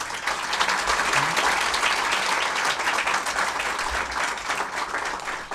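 Sustained applause from an audience, dense clapping throughout with a few faint voices mixed in.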